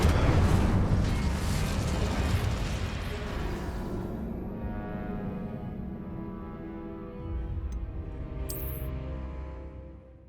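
The Incendio fire spell in Hogwarts Legacy on PS5 erupts as a loud, dense fiery roar that swells at the start and then settles into a long, rumbling burn, with a brief bright crackle near the end.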